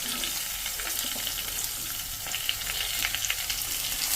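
Diced potatoes and carrots fry steadily in spiced oil for a pearl millet khichdi, a continuous close crackling sizzle with occasional sharper pops and no voices.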